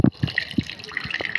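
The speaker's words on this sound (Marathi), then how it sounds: "आता एका कपड्यात मी सर्व भाज्या टाकून पिळून घेणार आहे, म्हणजे सर्व पाणी निघून जाईल" Water pressed out of salted vegetables wrapped in a cloth while making momos, heard as a few close, irregular drips and small splashes, with no talk.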